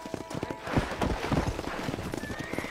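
Rapid hoofbeats of a galloping horse in the video game Red Dead Redemption pound close by, with a brief whinny and rattling tack, steady and busy throughout.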